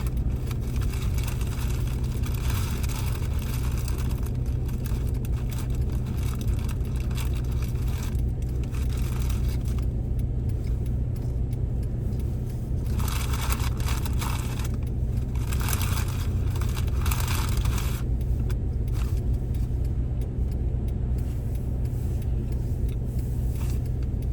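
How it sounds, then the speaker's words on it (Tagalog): A car's straight-pipe exhaust drones loudly with a deep, constant rumble from inside the vehicle, engine noise swelling slightly at times, no talking. "Maingay yung tambutso ko kasi tinanggal ko ma-plate ng straight pipe ko eh."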